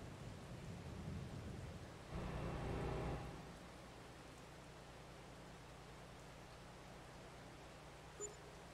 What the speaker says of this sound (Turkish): Yağmur duracak gibi değil değil mi?